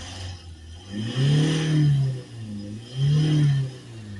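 Diesel engine of a Ford Transit Custom van with a failed DPF cleaning, idling low then revving up twice in swelling, sustained pulls that fall back between, close and loud with no talk.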